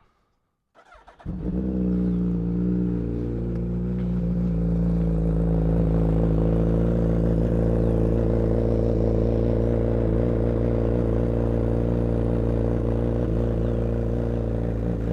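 A 2024 Suzuki Hayabusa motorcycle engine cold-starts: a brief cranking stutter catches into a loud, steady, high idle hum that holds evenly, close by and with no talk.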